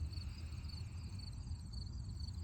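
Faint, steady pulsing trill of crickets over a dense low rumble of ocean surf, continuous throughout with no voices.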